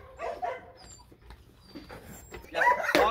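Dogs, including Kangal and Chow Chow, whimper and yip in a garden while being fed, soft at first and then rising to louder, sharper cries near the end.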